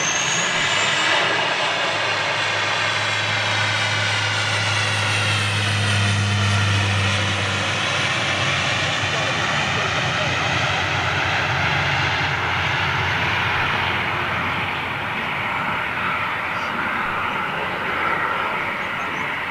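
An aircraft on a test flight gives a loud, steady engine drone with a low humming tone for the first several seconds, then a broad, even roar that holds for the whole stretch.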